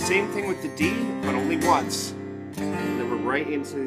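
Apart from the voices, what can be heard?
None of the usual background noises is heard.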